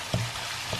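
Čimbur of eggs with minced meat frying in a pan, a quiet, brief sizzle with two soft pops.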